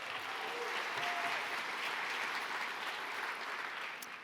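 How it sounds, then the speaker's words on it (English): An audience at the APA Heritage Awards 2024 gives a round of applause for the event co-chairs, a steady wash of clapping from a large crowd heard at moderate distance without speech. "Once again, a round of applause for our co-chairs."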